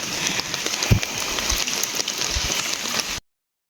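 Steady rain falls on a village, a dense close hiss dotted with heavier drop hits and taps, then cuts off abruptly near the end.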